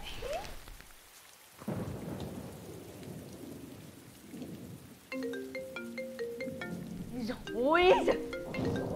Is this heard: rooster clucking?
no